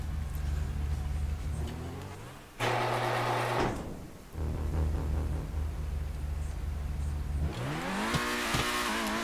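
A Lamborghini-style supercar engine in GTA V revs hard and loud, with rising harmonic whines, two sharp upshift breaks, and a final surge of acceleration near the end.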